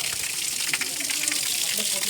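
A small waterfall on the Gupt Bhimashankar forest trek rushes in a steady, close, broadband wash of falling water that never lets up.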